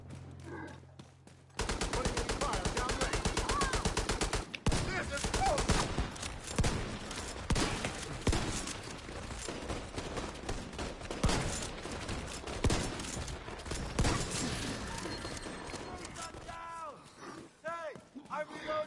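A turret fires sustained, rapid gunfire in a PvE shooter video game, continuous fast bursts for long stretches, with other shots mixed in and someone talking throughout.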